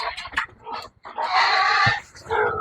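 A hungry Large White gilt squeals loudly at close range in a pigsty, with several short shrill bursts followed by longer drawn-out screams and no talking.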